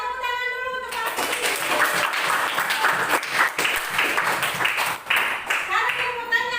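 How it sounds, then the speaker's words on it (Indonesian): A classroom of students at a junior high school in Ternate claps for a classmate, a dense burst of hand clapping lasting several seconds, with talk just before and as it fades. "tepuk tangan dulu untuk Fahri"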